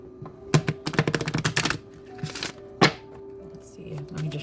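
Tarot cards being shuffled in quick rapid bursts of riffling clicks and slaps, close up, with a few separate thumps and pauses between, and a voice speaking faintly underneath.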